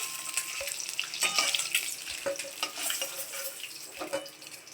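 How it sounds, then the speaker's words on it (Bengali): Potatoes fry in hot oil in a pan, a close, busy sizzle with crackles and occasional stirring scrapes throughout. "তো ওই তেলের মধ্যে আলুটা ভেজে নিচ্ছি"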